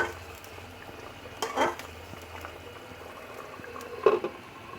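Fish curry with new potatoes simmers under a lid in a pan, a soft low bubbling hiss with a couple of brief louder gurgles, close and with no talk.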